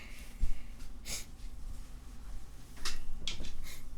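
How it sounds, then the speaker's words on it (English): A person with spring allergies and congested sinuses sniffs indoors, with a few short, sharp nasal inhalations spaced across a few seconds and soft breathing and faint rustling between them; no one speaks. "Excuse my sniffing."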